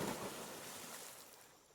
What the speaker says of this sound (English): That splashing noise.